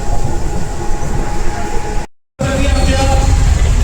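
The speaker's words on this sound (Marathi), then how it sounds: "आपण चाललं आता ट्रेनमध्ये बसायला" Onboard a local commuter train near Panvel, the carriage rumbles loudly and continuously with rattling and rail noise, interrupted by a brief dropout midway.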